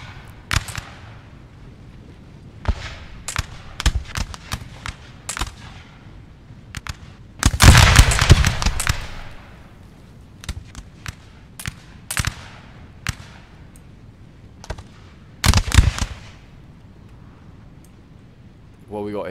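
Musket volleys ring out in the Napoleonic battle game Napoleon: Total War as British line infantry fire from behind a sunken wall, with scattered sharp shots and two heavier rolling volley bursts, while someone talks over them.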